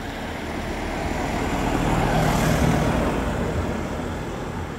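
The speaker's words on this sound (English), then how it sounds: "I can hear a car coming." A car approaches along a road on the Rob Roy Way between Callander and Strathyre, a broad engine and tyre roar that swells toward the middle and eases slightly near the end.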